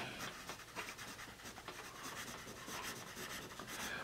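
A Dixon Pink Carnation eraser rubs pencil writing off paper in quick, close back-and-forth scrubbing strokes, faint but continuous over a few seconds.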